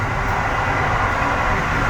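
A train rumbles along at a steady, loud level, with continuous wheel and carriage noise filling the whole stretch.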